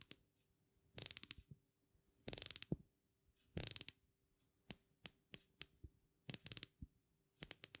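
A Tudor Pelagos dive watch bezel ratchets through its 60 clicks in close, crisp bursts, with fast rattling runs alternating with slower single clicks in near silence.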